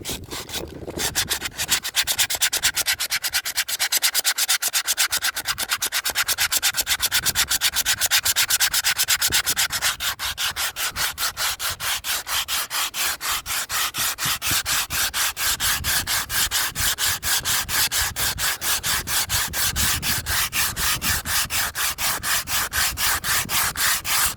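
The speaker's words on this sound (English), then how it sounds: "I'm rubbing it down by hand" A wooden boat hull is sanded by hand, with a close, steady, rhythmic rasping of rapid back-and-forth strokes that runs throughout without pause.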